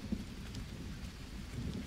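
Steady rain falls in the jungle survival game Green Hell, a soft continuous hiss with low rumbling beneath, fairly quiet and unbroken throughout with no voices.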